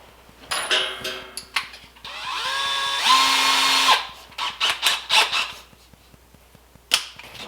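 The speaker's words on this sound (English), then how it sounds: "we'll drill 1 hole." A power drill spins up briefly and winds down while drilling a test hole in wood, surrounded by clicks, knocks and handling noises nearby.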